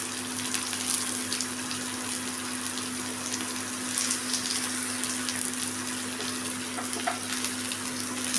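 Finely chopped large onion sautéing in a pan, a steady close sizzle and crackle over a low constant hum, alone with no talking.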